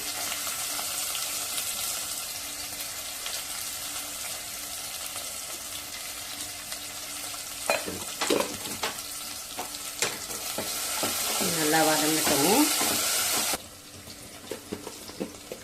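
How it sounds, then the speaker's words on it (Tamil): Cinnamon, cloves, fennel seeds and a green chilli fry in hot oil, a continuous close sizzle with occasional stirring clatter, then a louder rush of water before the sizzle returns quieter. "பட்டை லவங்கெல்லாம் நல்லா சோம்பு பொரிஞ்சு வந்ததுன்னா நல்லா வாசமாக இருக்கும் ஒரு பச்சை மிளகாய் கீழ் போட்டிருக்கேன்"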